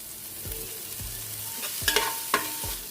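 Onions and green chillies fry in a pan, with a low sizzle under repeated spatula scrapes and stirring strokes, some with sharper metallic clicks, close and clear without speech.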